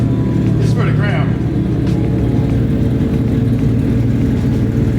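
Several six-cylinder cars with straight pipes idle and rev together in a dense, loud low rumble, with brief throttle blips rising over a steady drone while people talk nearby.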